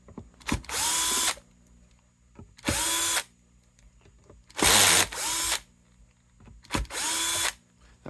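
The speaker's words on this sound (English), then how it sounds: "That was just the clutch, because I have it set real soft so it doesn't strip out small screws" A Bosch drill driver, set to a soft clutch for small screws on a guitar setup, whirs in four separate bursts of about a second each, close and loud, with sharp clicks of the clutch slipping between runs.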